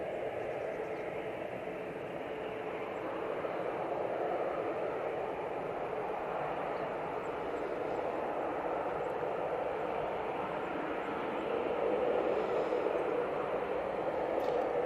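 An Aer Lingus airliner lands at Manchester Airport, a broad, steady jet roar heard from a distance that swells slightly toward the end, with no voices.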